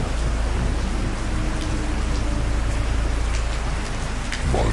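Heavy rain pours down in a dense, unbroken hiss, loud and close, with no voices.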